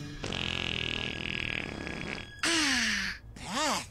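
A cartoon character from Total Dramarama lets out a long, loud, buzzing fart, followed by squealing, sliding comic sound effects.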